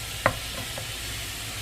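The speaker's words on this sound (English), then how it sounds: "When the hamburger meat and the onion are cooking together" Hamburger meat and onions frying together in a pan for a cheesy pasta, a steady soft sizzle with one brief stirring scrape near the start, no talking.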